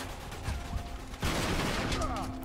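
Gunfire in the video game Uncharted 3 comes as a dense, loud burst of rapid shots and impacts, fairly close, under a busy game soundscape.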